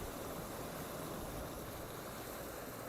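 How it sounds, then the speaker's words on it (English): Steady, soft wash of ocean surf at a rocky shoreline as the tide comes in, a continuous broadband rush with no distinct breaks, heard alone without voices. "The waves can be quite powerful."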